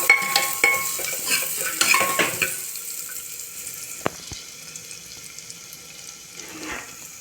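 Coconut and cashews roasting in a pressure cooker while stirred: a loud sizzle and scraping at first that settles into a quieter hiss, with a couple of sharp knocks of the spoon against the cooker.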